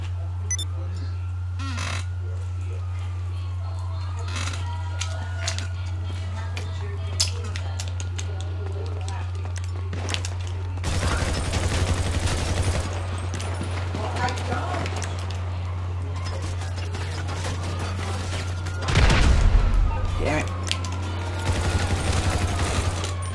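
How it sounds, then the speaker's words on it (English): Gunfire erupts in the video game GTA 5, with bursts of shots around the middle and again near the end, heard under a constant low hum and game noise. "I'm getting shot from behind!"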